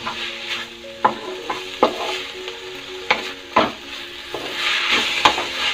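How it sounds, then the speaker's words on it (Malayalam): Chopped onion and tomato stirred in a sizzling frying pan for an egg roast. A steady sizzle runs under a series of sharp, rhythmic scrapes and knocks from the spoon against the pan. "സവാള ഒന്ന് ഒതുക്കി കൊടുത്തിട്ട് അതിനകത്തേക്ക് തക്കാളിക്കം ഇതൊന്ന് ആഡ് ചെയ്യാം. അതൊന്ന് മിക്സ് ചെയ്യാം."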